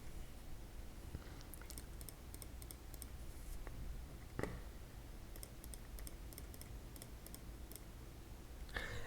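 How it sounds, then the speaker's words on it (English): Someone types an email address on a computer keyboard, producing faint, quick clusters of key clicks separated by short pauses, with a louder tap near the middle and steady quiet room hiss. "First thing you need to do here is to type here your email, Gmail or anything"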